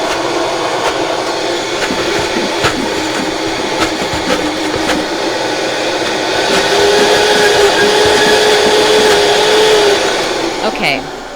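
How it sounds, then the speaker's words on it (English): A countertop blender whirs loudly and steadily while blending raw vegan tart ingredients, a continuous motor drone near the microphone with the pitch rising slightly partway through. "Thank you for understanding about the blender noises."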